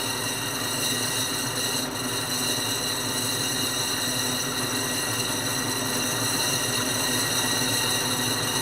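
A grinding wheel runs steadily with a continuous broadband rush and high ringing tones, a slight uneven bounce in its rhythm, close and constant throughout with no talking.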